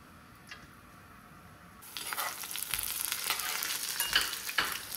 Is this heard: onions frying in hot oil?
yes